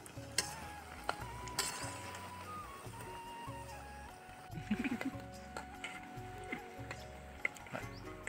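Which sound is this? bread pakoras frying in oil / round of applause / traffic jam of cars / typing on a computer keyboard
bread pakoras frying in oil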